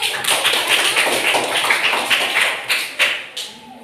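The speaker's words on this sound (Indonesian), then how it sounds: "kasih tepuk tangan dulu" A class claps together: a dense, even patter of many hands for a few seconds, close and fairly loud, breaking at the end into a few separate, sharper claps.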